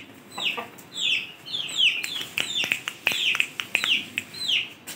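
Ayam Cemani chickens, a breeding pair with a chick, give repeated high, descending chirps and clucks close by, in quick irregular bursts over faint background noise, with no talking.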